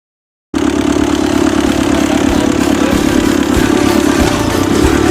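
A Ferguson TEF20 diesel tractor engine starts abruptly after a brief silence and runs loud and close with a steady, rough, throbbing rhythm.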